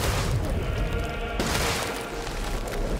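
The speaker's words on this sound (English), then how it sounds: "Maybe I should blow it up with my grenade launcher." A grenade launcher explosion in Resident Evil Village rumbles as a loud, sustained booming roar, with a sharp burst partway through and a dense low rumble throughout.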